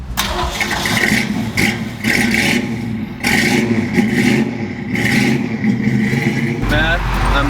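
A 1964 Ford Mustang driving on the road, a loud steady engine drone with rising revs and dips between gear shifts, interior rattle, and a voice speaking over it.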